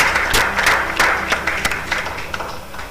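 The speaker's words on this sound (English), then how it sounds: "Let's clap for them first" Crowd applause for a third-place team at a Nigerian quiz competition, loud and close, with distinct sharp claps over a dense clapping bed that thins toward the end.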